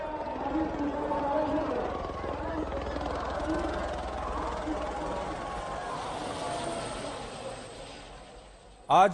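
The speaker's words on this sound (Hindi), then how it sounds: "ये तस्वीरें आप देखिए, हेलीकॉप्टर से पुष्प वर्षा की जा रही है।" A helicopter showering flowers over a crowd of pilgrims at the Mahakumbh in Prayagraj drones with a steady rotor hum under crowd noise and possible voices, then a sharp burst at the very end.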